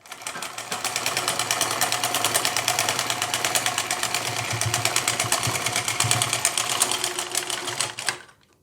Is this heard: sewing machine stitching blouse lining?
yes